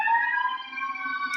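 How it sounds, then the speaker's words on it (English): A steady wailing ambulance siren drifts in from outside an apartment window, fairly faint and distant, holding its tones without a break. "like these ambulances around here"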